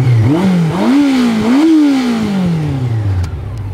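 Motorcycle accelerating along a mountain road, engine revving up through several quick gear changes, then a long falling whine as it pulls away into the distance, loud and close at first.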